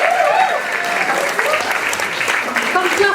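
An audience at an arts organisation's annual general meeting claps and cheers for a bus driver, with continuous applause mixed with voices and a host talking over it.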